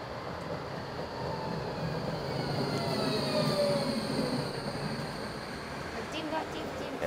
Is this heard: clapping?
no